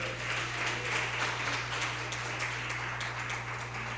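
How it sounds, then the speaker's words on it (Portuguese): A church congregation claps continuously in a dense, steady wash of applause, fairly distant, with a low hum underneath. "Vamos receber a pastora Luciana aplaudindo Jesus?"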